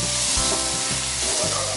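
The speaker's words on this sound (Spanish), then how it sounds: "en una cazuela vamos a agregar dos cucharaditas de mantequilla" Two teaspoons of butter melt in a pot, making a loud continuous sizzle and crackle with faint stirring scrapes and no talk.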